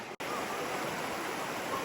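A fast-flowing river rushes past during a hike, a steady, close, full roar of water that continues without a break.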